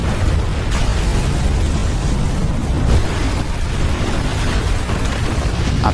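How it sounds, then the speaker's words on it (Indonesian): A massive explosion and building collapse from the film Athena, heard as a dense, continuous roaring rumble with heavy low-end debris noise sustained throughout, loud and without any talk over it. "Tak lama berselang, terdengar ledakan dahsyat."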